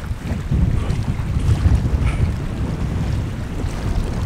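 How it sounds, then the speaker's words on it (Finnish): Strong wind buffets the microphone while kayaking along the Norwegian coast, a loud, continuous low roar with gusting surges and a wash of waves beneath it. "Ihmeellisesti kääntyi tuo tuuli heti kun lähdin liikkeelle."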